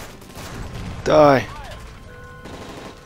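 Gunfire rings out in a plane hijack scene of Modern Warfare 3, a short loud burst amid shouting voices and game sounds.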